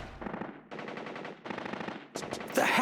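Bursts of machine gun fire from the video game Metal Gear Solid, three or four rapid rattling volleys in quick succession, ending in a louder burst with heavier impacts.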